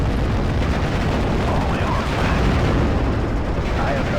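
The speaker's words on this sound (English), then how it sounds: "Well, that gives me targets for my howitzers anyway. 6 rounds." Howitzer artillery in Steel Division: Normandy 44 rumbles as a dense, loud, continuous barrage of booms and explosions, blending into steady heavy thunder with no distinct gaps.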